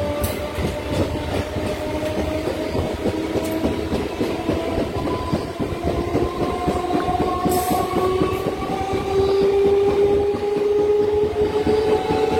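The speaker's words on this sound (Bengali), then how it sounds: "গাংপুর থেকে মাত্র 10 মিনিট লেট করে আমাদের ট্রেন ছেড়ে দিল তার প্রধান মূল গন্তব্যের উদ্দেশ্যে" A Barddhaman–Howrah main line local train on the Bandel to Barddhaman Junction run gives a steady, loud rumble throughout, with rising whining tones as it gathers speed and faint wheel clatter underneath.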